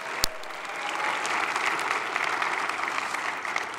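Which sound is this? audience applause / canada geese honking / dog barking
audience applause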